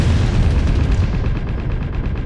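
Loud, rapid gunfire in a video game, dense overlapping shots booming close up for a couple of seconds with no break.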